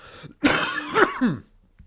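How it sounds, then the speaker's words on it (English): A single deep, chesty cough that breaks into a couple of rough, throaty bursts, loud and close, then silence. "That was a deep lunged cough."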